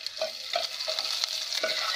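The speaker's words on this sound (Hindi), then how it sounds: "प्याज, लहसुन और सूखी मिर्च और ज़ीरा, इसका तड़का लगाया जाएगा।" Onion, garlic, dried red chillies and cumin sizzle in hot oil as a tempering, a continuous crackling fry punctuated by scraping stirs of a spoon, close and alone.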